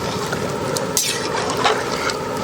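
Water is poured into a pan of sautéed crab for a crab soup and omelette dish, a steady liquid splash and gush with a few sharper splashy bursts.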